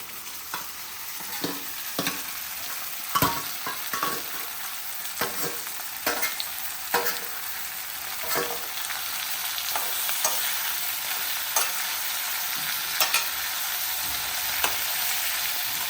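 Vegetable pieces are stirred in a pot of Kerala wedding-style sambar made without dal, with a soft sizzle and bubbling under repeated scraping and clinking strokes of the spoon, close and with no talk.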